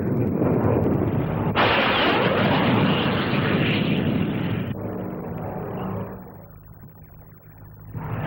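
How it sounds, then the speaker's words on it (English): A Navy low-level strike jet makes a fast pass at the 1959 Farnborough air display. Its loud roar swells sharply, holds for a few seconds, then fades as it flies off, with no talking. "This is the Navy's low-level strike aircraft. It goes in at treetop height below the enemy's radar cover."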